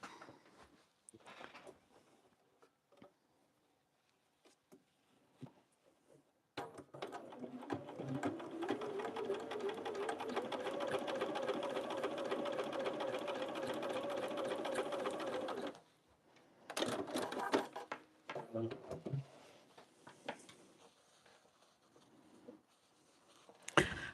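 A sewing machine stitching along a fabric edge while turning scraps into stained-glass-style work, a steady rapid whirring run of about nine seconds with a rising motor pitch, framed by quieter handling clicks and shorter bursts.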